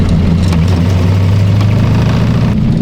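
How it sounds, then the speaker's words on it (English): A car engine with a suspected carburetor problem drones loudly and steadily at wide open throttle from inside the cabin, a constant low roar without much rise in pitch. "That wide open throttle, I have no power."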